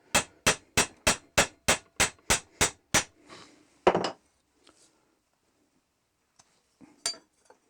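A hammer strikes a wooden dowel through a dowel plate with about ten sharp, evenly spaced blows, loud and close, followed by a louder clunk, then near silence with a couple of faint knocks.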